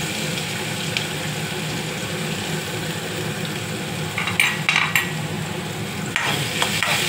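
Curry leaves, chili and ginger-garlic paste frying in a pan for potato and cauliflower bhaji, a steady close sizzle with sharper crackling bursts and stirring scrapes toward the end.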